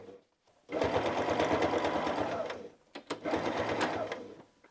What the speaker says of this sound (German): Und wir nähen einmal diese Stelle entlang mit einem normalen Nähfüßchen.